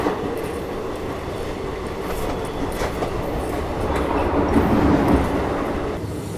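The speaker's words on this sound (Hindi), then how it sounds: "देखिए उस तरफ लोकल ट्रेन जो है वो जा रही है।" A local train rolls past near the Hooghly Ghat railway station, its steady rumble and wheel clatter filling the whole stretch, swelling slightly toward the end with no one speaking.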